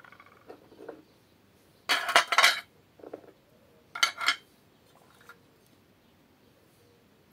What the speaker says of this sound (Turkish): Tenceremin içine yağlamış olduğum fincanları diziyorum.